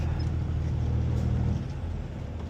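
A truck engine rumbles steadily in low gear while the truck creeps through slush in a snowy winter parking lot, a deep, continuous drone close by with no voices.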